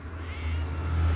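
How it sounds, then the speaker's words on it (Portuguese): A domestic cat gives one loud, close meow that is drawn out and low-pitched, filling the whole moment. "eu só tenho dois gatos, não tenho três"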